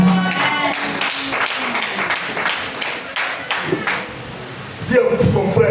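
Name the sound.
church congregation clapping and acclaiming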